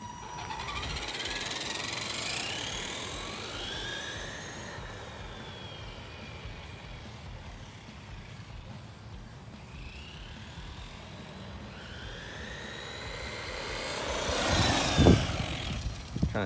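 An ECX Torment 2WD 1/10-scale RC short course truck whines through a test run, its electric motor rising and falling in pitch as it speeds up and slows, loud and close, with a sharp burst near the end.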